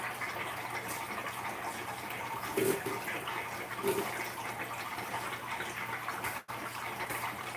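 Water gushes and pours steadily through a siphon while fish are moved to a new fish room, a constant rushing flow that holds the same level for several seconds.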